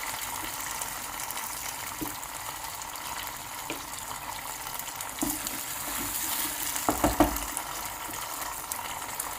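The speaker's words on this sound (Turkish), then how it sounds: "Şöyle bir miktar suyu köftemizin suyundan alıyoruz." Cooking water from köfte poured into fried tomato paste in a pot, a steady watery pouring and simmering wash throughout, with a few louder splashing bursts near the end and no talking.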